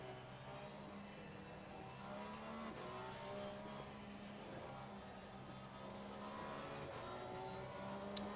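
Race cars in Assetto Corsa Competizione at Misano hold a steady, layered engine drone, with several cars whining through gear changes at a moderate distance and no voices.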